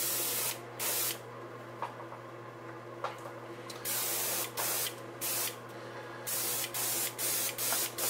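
Pearl silver paint sprayed onto a fishing lure during a factory lure repaint, heard as a steady hissing background broken by about nine short, louder bursts of spray.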